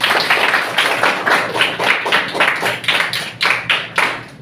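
A classroom full of people clapping together, a steady burst of hand claps that lasts several seconds, fairly close and lively.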